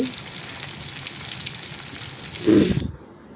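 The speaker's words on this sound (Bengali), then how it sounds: "তার জন্য আমি মাছ ভেজে নিচ্ছি" Fish fries in hot oil with a continuous close sizzle. Near the end comes a louder burst, then the sound cuts off abruptly into near silence.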